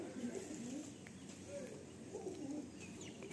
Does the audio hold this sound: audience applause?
no